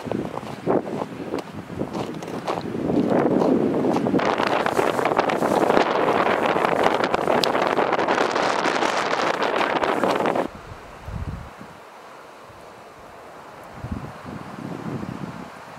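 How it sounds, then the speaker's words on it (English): Strong spring wind gusting outdoors on a farm, loud buffeting rush against the microphone for about ten seconds, then dropping to quieter, intermittent gusts. "You know spring is on the way when the wind starts picking up like this."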